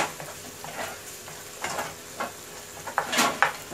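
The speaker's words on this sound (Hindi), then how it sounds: "और फिर टमाटर डालने का।" Tomatoes fry in a pan with turmeric, chili, cumin, green chili, ginger and garlic, giving a soft continuous sizzle broken by repeated scraping stirs, close and moderately loud.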